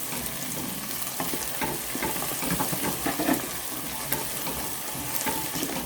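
Potatoes and onion frying in a pan with pepper flakes and tomato paste give a steady, close sizzle throughout, with stirring scrapes and small crackles on top.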